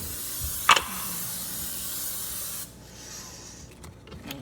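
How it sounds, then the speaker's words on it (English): A sharp click, then a steady hiss of cooking oil sprayed into a pan, close by, lasting a couple of seconds before cutting off into quiet. "We need to spray a little bit of oil."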